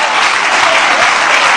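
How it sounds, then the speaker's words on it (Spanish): A church congregation breaks into loud, dense applause during a Spanish-language sermon, a steady wall of clapping from a large crowd, close and sustained throughout with no pauses. "Vamos a dar un aplauso fuerte al Señor."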